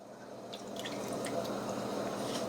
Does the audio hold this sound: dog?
no